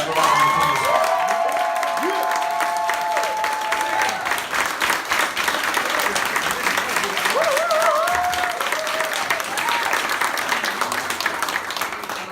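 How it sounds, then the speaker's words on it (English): An audience at a drama-school panel event in London applauds in a dense, continuous wave that holds steady throughout. A few scattered whoops and voices rise above the clapping. "Have a round of applause."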